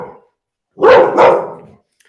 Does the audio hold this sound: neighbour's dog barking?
yes